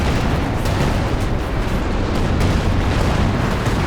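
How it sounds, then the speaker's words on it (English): A low-angle Werfer rocket barrage in Company of Heroes 2 fills the clip with a continuous roar of overlapping explosions and rumbling impacts, loud and dense with no break. "It's a low angle Werfer barrage."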